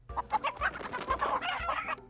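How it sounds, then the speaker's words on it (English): Chickens in a farming-and-dating video game cluck frantically as they scatter and run off, a dense busy flurry of overlapping squawks lasting throughout, fairly close and moderately loud. "the ground feels as if it's started shaking as the nearby chickens all frantically run in the opposite direction"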